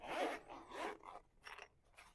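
Double zips on a hard watch case being pulled open, several quick rasping strokes close up, the last ones shorter and more broken, with no one talking.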